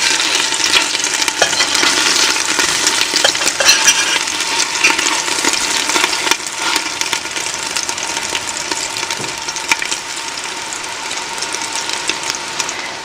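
Meatballs brown in a frying pan with a bright, continuous sizzle and spatter, while a utensil scrapes and taps as they are turned.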